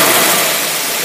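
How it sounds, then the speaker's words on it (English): Small Predator engine with a carburetor running on a dyno during a three-rev test, giving a loud, steady, continuous roar close by, with no voices. "So let's start out right now with a three rev test, and let's see what happens."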